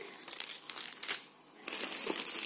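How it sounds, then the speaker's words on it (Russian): Plastic bags of hair bows rustled and crinkled by hand, a steady crackling run of dense crinkles with a short lull midway before picking up again, close and fairly loud with no talking. "Пакетиками пошуршу"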